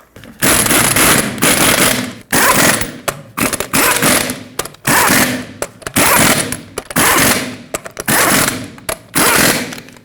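Impact wrench running down the eight lug nuts on a 2011-2016 Ford F-350 rear wheel in a cross pattern, loud rattling bursts of a few seconds each separated by brief pauses, close up with no talking.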